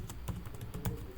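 Someone types on a computer keyboard while writing React code, a few soft, close key clicks in an irregular rhythm over a quiet room.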